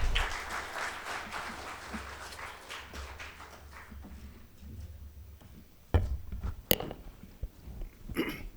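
Audience applause at a Management Day book launch and talk, welcoming a guest to the stage; a quiet, distant patter of clapping that fades out, followed by a few louder isolated knocks and thumps.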